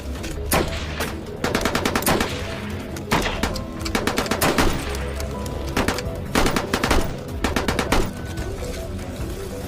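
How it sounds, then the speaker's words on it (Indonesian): British and other soldiers trade fire in a First World War film shootout, with loud, close bursts of rapid automatic gunfire and single shots repeating in clusters throughout. "dan terjadilah baku tembak di antara mereka"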